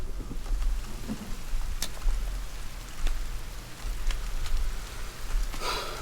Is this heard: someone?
no